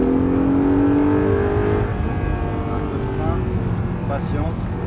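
An Audi R8 on a track fills the cabin with a loud, constant engine drone whose pitch glides up and down as the throttle and brakes are worked.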